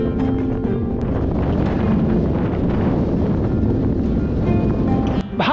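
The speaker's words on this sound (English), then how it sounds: "By gum, it's windy." Loud, constant wind from a strong easterly crosswind buffeting the microphone while cycling on the Kintyre peninsula, a low roaring rumble that masks everything else, with a brief dip near the end.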